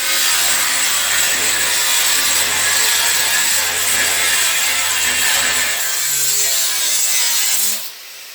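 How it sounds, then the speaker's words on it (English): A power saw cutting out the center piece of metal for a homemade bead roller, a steady loud rasping grind running continuously for about eight seconds before cutting off near the end. "I'm going to go cut that center out."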